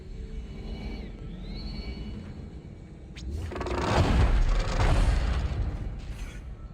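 A grenade launcher round in Dead Space ends in a deep, rolling explosion that swells and rumbles for a few seconds after a whirring mechanical windup.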